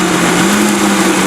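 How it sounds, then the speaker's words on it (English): A Vitamix blender runs continuously at a steady, loud whir, blending about 1.5 to 3 cups of meat, with a strong, even drone throughout and no voices. "Now, I'm going to blend it first before I put in the Life Biotic from PURADYME."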